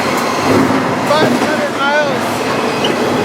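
A train rolls along its rails in a steady, loud rumbling wash with faint squealing tones rising above it, while a person talks over the noise.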